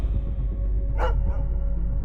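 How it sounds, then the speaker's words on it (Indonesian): Dogs howl far off as a horror-story sound effect, a single brief cry rising over a constant low rumbling background. "Kemudian lusinan anjing melolong di kejauhan."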